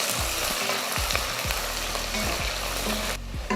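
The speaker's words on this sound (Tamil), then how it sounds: "வெங்காயத்தை நல்லா கலர் மாதிரி வரட்டும், பொன்னிறமாக வரணும் பார்த்திங்களா, அந்த மாதிரி வதக்கிக்கலாம்" Sliced onions sauté in a pan until golden, a steady close frying sizzle with repeated scrapes and clanks of a spoon stirring through.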